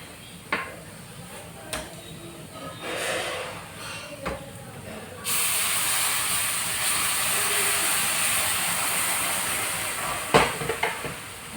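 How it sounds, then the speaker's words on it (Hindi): Milk poured into a hot pan of bottle gourd halwa sets off a steady hiss and sizzle from midway, following a few soft clinks and stirring noises. It is moderately loud and close, with no talk. "तो दोस्तों अब इसमें हम दूध डाल देते हैं इस तरह से।"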